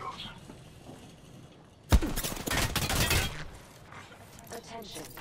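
Gunfire in the Apex Legends video game, a loud burst of rapid shots that lasts about a second and a half over game noise and talk.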